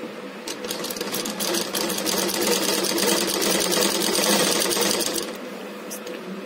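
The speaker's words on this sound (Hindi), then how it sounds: "यहाँ से हमने एकदम बारीकी से सिलाई लगा लेनी है" A sewing machine stitches a folded trouser hem with a fast, steady, close-up whir that runs continuously and eases off briefly near the end.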